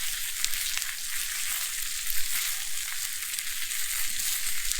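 Hot dogs sizzle in hot butter on a Blackstone griddle, a constant bright crackling hiss heard up close, steady and unbroken with no voices.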